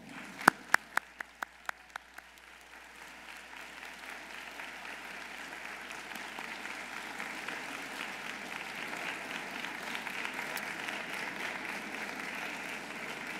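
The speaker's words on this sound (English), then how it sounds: "face your loved ones, and give them a round of applause." Medical school graduates at a University of Vermont commencement ceremony applaud their families, opening with a few sharp individual claps before swelling into broad, sustained applause from a large indoor crowd.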